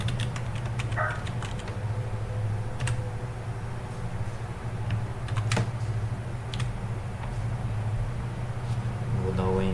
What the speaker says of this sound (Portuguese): Vou dar o enter aqui.